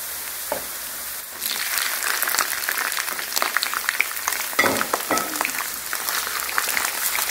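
Food browning in a pan during a fireplace home-camping meal, a loud continuous crackling sizzle with sharp spitting pops throughout, no talk.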